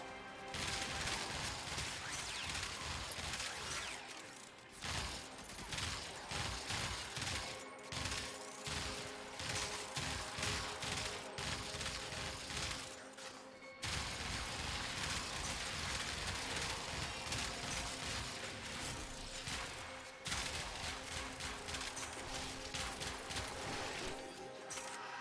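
Sybaris Prime rifle fire in Warframe, with loud, dense bursts of shots running almost nonstop for about 25 seconds, broken only by a few very short pauses.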